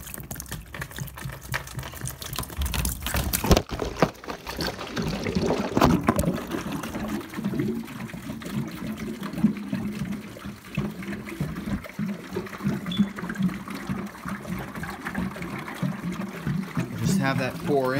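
Water pours and trickles into a hydronic cooling system during its first run, an uneven splashing flow heard close, with clicks and handling noises and a person talking over it.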